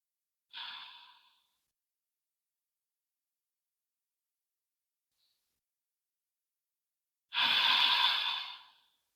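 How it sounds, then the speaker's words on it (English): Two slow, deep breaths during a beginner's yoga session, one soft breath early and a longer, fuller exhale near the end, separated by long silence. "Once you get settled for a few moments, then add 3 more rounds of your breath."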